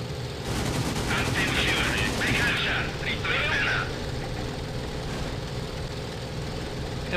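Aircraft machine guns fire in IL-2 1946 during a nose-on gun run against bombers over Sicily, sustained bursts heard under a steady engine drone, with a voice talking over the action.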